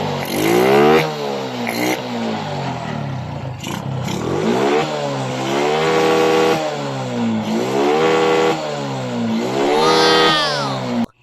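A Suzuki Smash 115 motorcycle with its air cleaner removed revs hard and close, its engine note rising and falling in repeated sweeping surges, rough and loud, with a higher whining climb near the end before cutting off.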